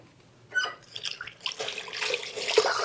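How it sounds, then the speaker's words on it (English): Tap water runs into a sink as hands are rinsed after working flour dough, a steady splashing hiss that swells after a quiet start and carries on close by. "Let me rinse off my hands."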